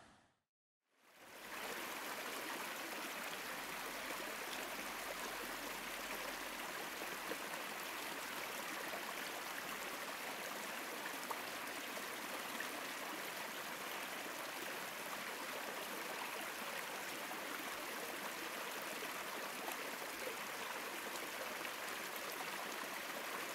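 River in Chilliwack flowing near a house, a steady broadband rush of water that stays even and moderately distant for the whole stretch after a brief silent start, with no voices.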